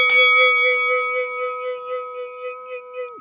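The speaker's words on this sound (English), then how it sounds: "make sure you hit that notification bell" A single bright notification-style bell ding rings out clearly with a sharp strike, then sustains a steady ringing tone that slowly decays with a gentle wobble over about three seconds, alone with no talk.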